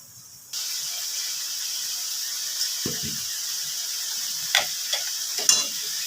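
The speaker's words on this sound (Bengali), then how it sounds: "মশলাটা কষানো হয়ে যাক" Chili and cumin powder masala, with salt and turmeric, frying in a pan for a fish curry: a steady, soft sizzle that starts abruptly and runs throughout, with a few faint scrapes and clinks from stirring.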